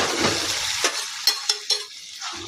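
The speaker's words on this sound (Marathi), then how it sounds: "त्यामध्ये आता हे आपण शिजवून घेतलेला अख्खा मसूर टाकू." Cooked whole masoor lentils tipped into sizzling masala, a loud frying hiss that breaks off into a few quick scraping stirs and soft clacks of a spoon in the pan.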